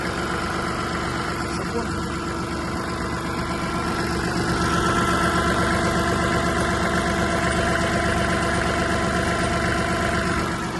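A Kubota KL-300 Japanese mini tractor's small diesel engine idles steadily with a rhythmic, chugging pulse, close by and continuous throughout.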